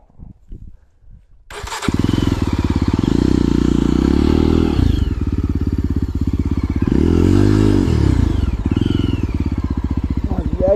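A Yezdi Roadster motorcycle stuck during off-road riding, its engine starting after a short quiet stretch and then revving loud and close in repeated rising and falling surges while the bike fails to move.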